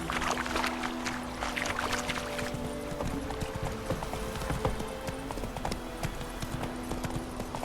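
Horse hooves clip-clop in a steady trotting rhythm while riding in The Witcher 3: Wild Hunt on PS4 Pro, close and clear over faint ambient game sound.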